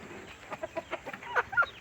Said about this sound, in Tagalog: ang daming manok na kumpare ko